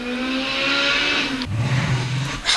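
A car passes from a sound library effect, a steady engine drone that shifts pitch midway as it goes by, with a brief swish at the end, heard alone without talk.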